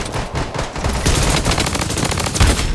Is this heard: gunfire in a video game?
yes